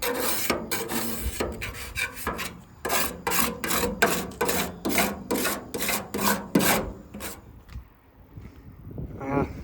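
A hand scraper drags paint stripper off a 14-foot V-hull jon boat in a quick run of rough, rasping strokes, close and loud, tapering off near the end, with no talk over it.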